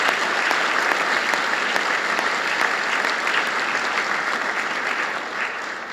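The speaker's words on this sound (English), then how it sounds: "Let's give her another round of applause." Loud, sustained applause from a large audience at a university address, a dense, even roar of clapping that holds steady throughout and eases slightly near the end.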